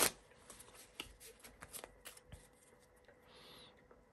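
Tarot cards being shuffled by hand, a series of quick riffling snaps and soft card slaps, close and fairly quiet, with no talking.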